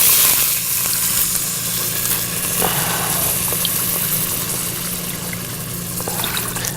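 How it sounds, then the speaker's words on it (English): Water for boxed stuffing hits a hot pan and sizzles loudly, a steady hissing and bubbling with faint clinks, no talking. "We're gonna add the water for the box of the stuffing."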